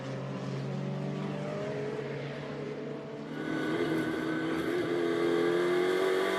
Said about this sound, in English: This is the view from out the front of that Mercedes as Ben Schneider accelerates through turn 3